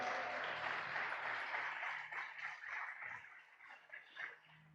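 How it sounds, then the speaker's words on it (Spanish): A church congregation claps loudly for the Lord, a fairly quiet wash of many hands that gradually thins out toward the end. "Le da palmas fuertes al Señor."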